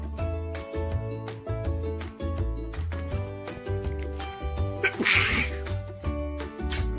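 A single person's sneeze lands near the middle, a sharp burst over steady background music playing throughout.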